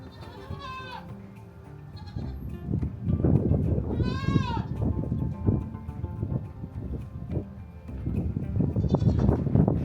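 Goats, including a baby goat, bleat in short wavering cries at a historic Southern California rancho, heard up close amid rustling and farmyard noise.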